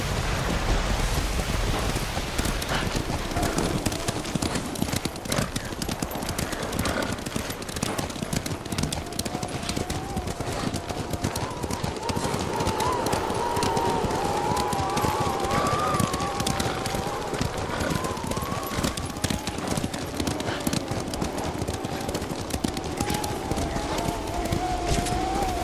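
A horse's hooves clip-clop steadily while heavy rain pours down in the video game Ghost of Tsushima, with the rain hiss constant and loud throughout.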